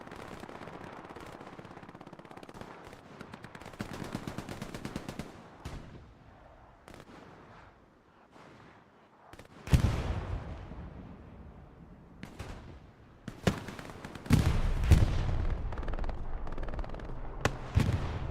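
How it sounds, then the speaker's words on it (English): Gunfire from a strafing run in the Hell Let Loose World War II shooter on the Kharkov map, bursts of rapid automatic fire and heavy impacts that build into loud, dense barrages toward the end, with no talking. "Never mind, that was just a strafing run."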